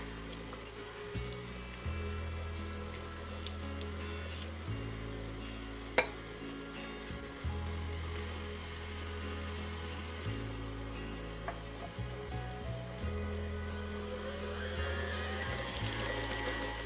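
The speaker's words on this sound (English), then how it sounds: "Now that you have beat your batter for 2 minutes on a high speed" Chocolate cake batter beaten by an electric mixer on high speed, a steady close motor whir with shifting pitch steps as the beaters work, one sharp click partway through, no talking.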